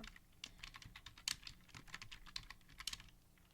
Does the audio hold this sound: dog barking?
no